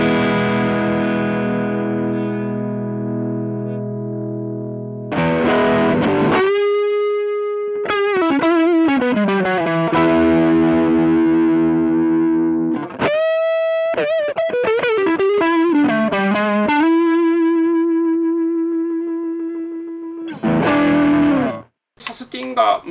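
Distorted electric guitar run through an effect pedal with a mid booster knob, playing sustained single notes and short runs separated by pauses, with long singing sustain and a slight chorus-like shimmer.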